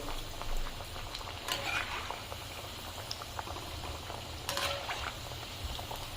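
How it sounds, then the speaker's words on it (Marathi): Dal vadas fry in hot oil with a steady, dense bubbling sizzle close by, dotted with a couple of brief sharper crackles, and no talking. "आता याला मस्त तळू देऊ आपण"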